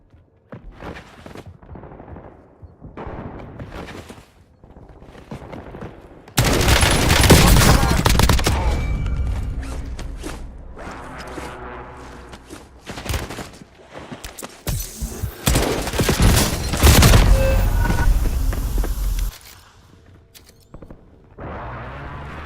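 Artillery blasts and rapid gunfire from a war video game, a loud continuous barrage of shots and explosions building after a quieter opening of scattered bursts, then easing off toward the end.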